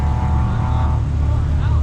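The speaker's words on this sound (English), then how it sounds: "You're seeing the cars just entering the track." Steady engine roar of BMW cars entering a race track at a BMW enthusiast drifting event, close by, a continuous low rumble with no pauses.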